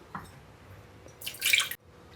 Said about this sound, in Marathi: थोडंसं पाणी टाकूया ह्यामध्ये